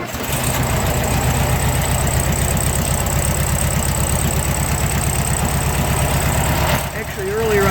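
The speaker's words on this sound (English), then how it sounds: "we're going to fire it up and do a cold start" A 1969 Volkswagen Karmann Ghia air-cooled engine, likely a single-port motor, fires on a warm day and settles into a loud, steady, close-up idle with a rhythmic chugging pulse.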